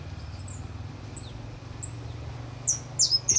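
A young goldfinch gives short, high thin chirps and tweets in scattered bursts, a couple louder near the end, over a low background hum.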